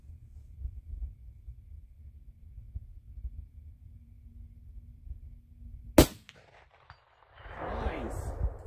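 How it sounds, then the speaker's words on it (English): A single sharp, loud shot from a Henry 350 Legend single-shot rifle cracks out after several seconds of low, steady background hum, followed by a brief fading rumble. "this little rifle thumps it for sure"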